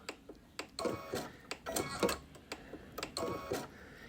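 A Baby Lock Solaris sewing machine stitches a buttonhole under foot-pedal control, producing close, uneven bursts of mechanical clicking and whirring that start, pause and restart in short runs.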